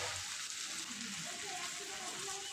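Chicken sizzles in a pan for a dhaba-style curry, a quiet, even crackle of frying with a soft hiss throughout.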